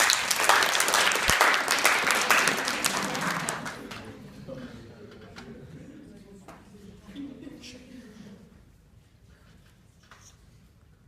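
Classroom audience applauding to encourage a slam poet improvising, a loud round of clapping for about four seconds that then fades away, leaving quieter room sound with light voices.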